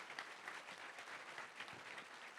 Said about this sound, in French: Vous pouvez les applaudir, les 5 universitaires, les 5 chercheurs et chercheuses qui nous ont accompagnés.